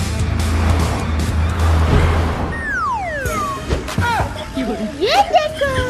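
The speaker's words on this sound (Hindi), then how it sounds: "ये देखो, मैं बिना हाथ पकड़े गाड़ी चला रहा हूँ।" A car drives close by with engine noise and a brief tire squeal, followed by cartoonish whooshing and sliding effects; voices sound intermittently through the scene.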